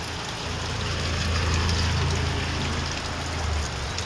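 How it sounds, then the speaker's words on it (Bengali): Heavy rain falls steadily outside, a loud, even wash of noise with a low rumble beneath and no voices. "আর যে হারে বৃষ্টি পড়ছে শুধু তোমাদেরকে দেখাই"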